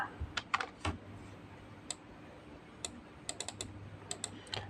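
Quiet clicks from a computer keyboard while working in an Excel spreadsheet, including a Ctrl T shortcut: irregular clusters of light keystrokes spread across the moment over a faint steady background hum, with no talk.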